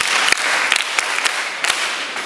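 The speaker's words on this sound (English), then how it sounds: "Clap for yourselves" An audience claps for themselves in a short burst of steady, moderately loud applause, with a few sharper individual claps standing out; no speech over it.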